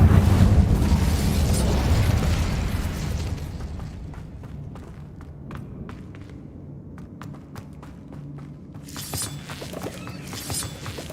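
An Incendio fire spell cast in Hogwarts Legacy, a loud roaring burst of flame that slowly fades into crackling and scattered snaps, then swells again near the end.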